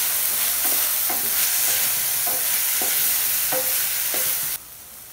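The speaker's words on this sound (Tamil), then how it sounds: "குடமிளகாவும் லைட்டாக வதங்கிருச்சு அதோட நம்ம மிக்ஸ் பண்ணி வச்சுக்கூடிய சாஸ் இதில் சேர்த்துடலாம் அதுவும் லைட்டாக வதக்கிடலாம்" Capsicum and sauce being sautéed for soya chunks Manchurian: steady loud sizzle and frying hiss with repeated spatula scrapes and clinks roughly every half second, no talk, cutting off abruptly near the end.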